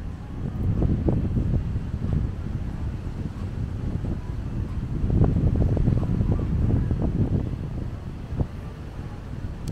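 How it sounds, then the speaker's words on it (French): Strong, gusty wind at a Chicago beach buffets the microphone in a continuous low roar, swelling and easing with no voices present. "mais il y a un vent pas possible là."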